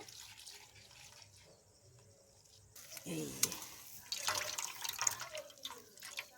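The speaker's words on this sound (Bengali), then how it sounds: "তো একইভাবে এর মধ্যে জল দিয়ে দেব।" Water is poured into potato ground on a grinding stone, a faint splashing and trickling that grows louder midway, with quiet background noise.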